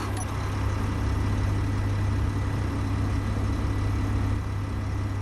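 A vehicle engine idles in the game Space Engineers, a steady loud low hum with a constant drone that holds evenly throughout, with no talk over it.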